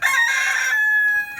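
A rooster crows once, a loud, close, drawn-out cock-a-doodle-doo with a strained, reedy tone that trails off, followed by a faint cluck.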